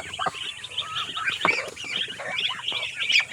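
Newly hatched chicks chirp in a busy, overlapping flurry of high peeps and cheeps, close by and continuous for a few seconds.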